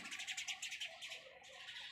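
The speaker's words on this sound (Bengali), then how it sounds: "পাখির ডাক শুনতেই পাচ্ছেন আপনারা" A bird in a Bangladeshi vegetable garden near eggplant plants gives a steady run of high, bright calls, fairly faint and distant, repeating without pause over soft outdoor background.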